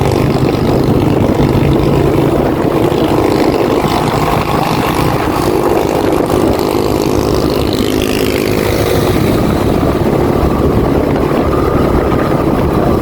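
A loud, rough engine drones steadily and close by, its exhaust rumbling without a break throughout.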